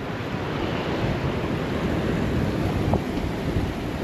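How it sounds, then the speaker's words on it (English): A mountain stream in the Faroe Islands rushes toward the sea with a loud, continuous broadband roar of water and wind buffeting the microphone, steady throughout with no voices. "All this is water coming from the mountains and going to the sea."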